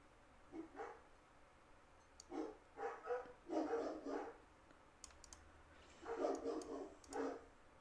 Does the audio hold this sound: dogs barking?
yes